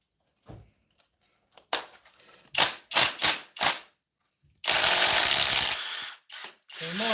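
A socket wrench works a crusty 13 mm bolt loose, with sharp ratcheting clicks in short bursts, separate knocks, and a longer grinding rattle near the middle, close and loud.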